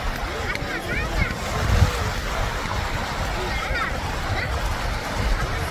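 Pykara Falls near Ooty pours out a steady, broadband waterfall roar that fills the whole stretch, with voices talking faintly over it.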